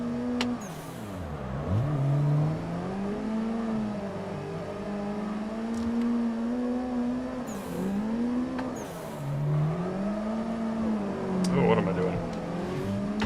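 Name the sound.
car engine drifting in Assetto Corsa video game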